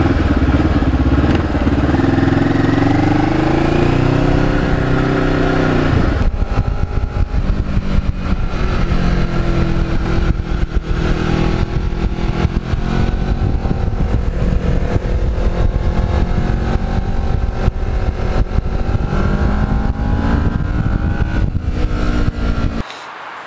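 A sport motorcycle engine idles and revs steadily up close for the whole stretch, a continuous loud mechanical drone with shifting pitch, among a ride day's twins, an RC8 and Ninjas.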